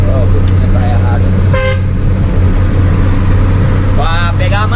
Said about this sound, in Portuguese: Oh, a buzina tá errada.